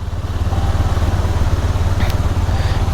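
A motorcycle rides along toward a KTM showroom, its engine droning steadily and close with a low, pulsing mid-range rumble throughout, with no speech over it.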